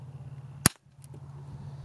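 A single CCI Quiet .22 rimfire round fires once, a short, sharp crack that stands alone and close against a quiet, humming background.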